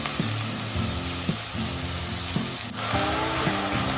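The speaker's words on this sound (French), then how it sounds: "je vais faire revenir les oignons dans de l'huile de palme jusqu'à ce que ça brûle" Onions fry in palm oil in a pan, a loud, constant close sizzle with occasional stirring knocks and a brief dip near the middle.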